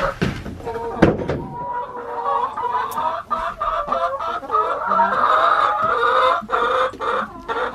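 Hens cluck and murmur in their nesting boxes, close and lively with a loud squawk near the start, while a person talks to them softly over the bird sounds.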